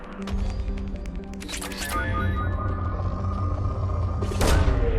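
Probe launching toward a planet in the Mass Effect 2 video game: a loud whooshing launch with a thump and rising tonal sweep, followed by a sustained humming drone and a second sharp burst near the end.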